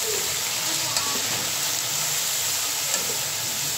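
Chopped onions sizzle and fry in hot oil in a pan for chicken biryani, a continuous bright crackling hiss with a few small pops and stirring scrapes, close and steady throughout.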